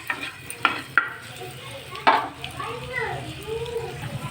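Eggs fry in a pan, giving a moderate sizzle with a few sharp stirring clicks while a person talks over it.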